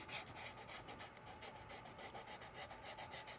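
A small hand-held sanding block rubs steadily back and forth over a leather mini wallet edge, a soft continuous rasping scrape at close range with an even rhythm and no talk.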